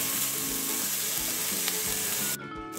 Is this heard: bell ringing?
no